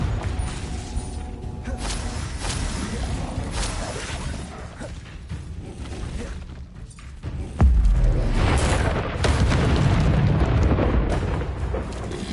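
Fiery spell blasts from Hogwarts Legacy combat crackle and boom over a busy game soundscape, with a heavier explosive thump and rumble arriving near the end.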